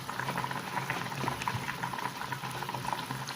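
Traditional Moroccan couscous steaming in a couscoussier over a pot of simmering broth, a continuous soft bubbling and hissing with small irregular pops, close and fairly quiet, no voices.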